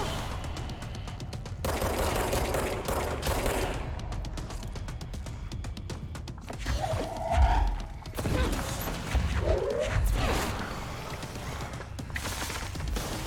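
Enemies firing at the player in the action game Control, with bursts of rapid gunfire and mechanical clatter running through most of the stretch, loud and close, plus a couple of brief tonal effects.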